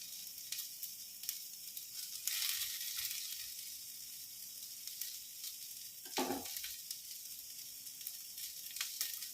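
Garlic sprouts and beancurd sauté in a hot pan with a steady, close sizzle and an occasional louder hiss as the food is stirred, with no talking over it.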